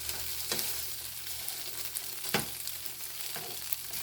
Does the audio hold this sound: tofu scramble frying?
yes